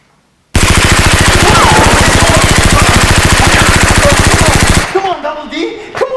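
A Nerf gun fires in a long, loud, rapid burst of evenly spaced shots for about four seconds, then stops abruptly. Voices and scattered noises follow.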